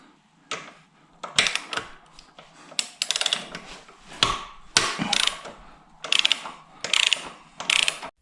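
A ratchet wrench on a 14 mm fitting loosens the side stand screws of a Yamaha Tracer 9. Close, loud bursts of rapid clicking ratchet strokes repeat in quick groups with brief pauses between them, and nobody speaks.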